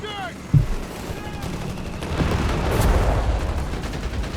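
Grenades burst in Company of Heroes 3, a WWII strategy game battle between Afrika Korps and US forces: one sharp boom early, then a dense, rumbling stretch of gunfire and blasts, with a voice faintly underneath.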